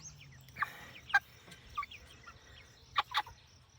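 A large meat-breed chicken gives a few scattered, soft clucks and short calls, fairly quiet against a low steady hum.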